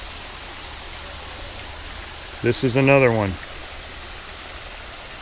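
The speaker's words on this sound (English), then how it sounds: "There's more than one waterfall, which means there's more than one source of a waterfall." Steady broadband rush of a waterfall in a gully near Branson, Missouri, continuous throughout, with a voice speaking briefly over it midway.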